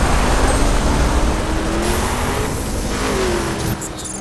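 Game cars racing in an illegal street race in The Crew, a steady loud engine drone with faint passing whines, no talk over it.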